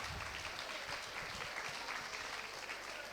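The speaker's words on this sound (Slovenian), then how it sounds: "En aplavz za tretje mesto," Steady, dense audience applause fills the room at a laughing contest as third place is announced, continuous clapping from a crowd with no break throughout.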